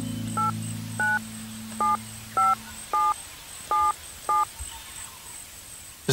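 A telephone keypad dials a number: seven crisp, evenly spaced DTMF beeps, loud and close over a faint hum, with no talking.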